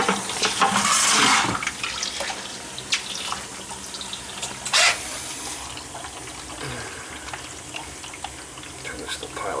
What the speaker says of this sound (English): We're gonna drain some water out of it.